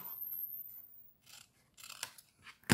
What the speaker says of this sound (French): Donc, on coupe, on fait un biseau